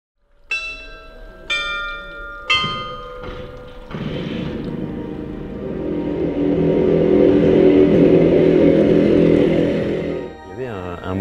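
A 1967 Bultaco Metralla 250 Mk2 motorcycle engine fires up after three ringing bell-like strikes, then settles into a steady, fairly loud two-stroke drone that builds, holds and drops off near the end.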